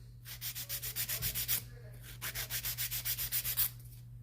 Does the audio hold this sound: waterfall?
no